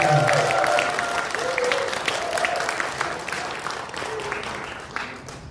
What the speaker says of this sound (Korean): 우리 저자 이충재 작가님한테 다시 한번 뜨거운 박수